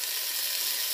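Ginger and white onion sauté for beef bone marrow soup, giving a bright, continuous hissing sizzle close to the pan for about a second, with no speech.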